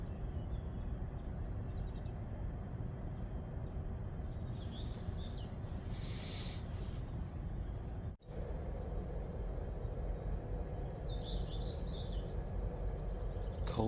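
Outdoor birdsong from pigeons and sparrows, faint chirps and twitters scattered over a steady low rumble of distant ambience, with brief clusters of calls midway and again near the end.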